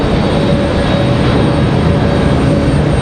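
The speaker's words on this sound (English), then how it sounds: "Our second and final ATR, this one coming in from Wilmington." An ATR turboprop airliner arriving from Wilmington at Raleigh-Durham on a stormy day, a steady, loud, broadband engine roar holding constant throughout with no talk.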